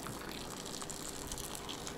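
Liquid pours steadily into a jar packed with garlic and greens, making a continuous, fairly quiet gushing splash with no talk.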